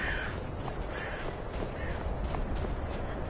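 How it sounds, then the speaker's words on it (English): Crows caw in Skyrim, a few short calls standing out faintly above a steady, noisy ambient bed, with no talking. "Crows?"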